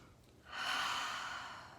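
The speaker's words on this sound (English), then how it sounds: "Big inhale and big exhale." A deep breath during a guided self-care breathing exercise: a soft, airy inhale swells up and is held as a long, steady breath that slowly fades, close and alone with no talking.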